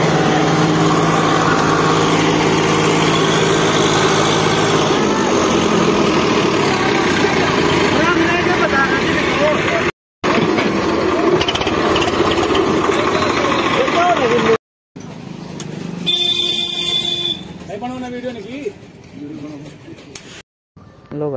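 A Swaraj 744 FE tractor with power steering, stuck in mud, runs its engine loudly and close by, a steady labouring diesel drone with brief cuts and a rougher, fluctuating stretch near the end, with people talking over it.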